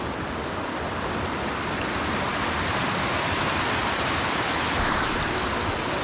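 Snowmelt water rushes down a stream near Sethan, Manali, in the Himalayas, a loud, close, unbroken roar of flowing water that holds steady with no voices.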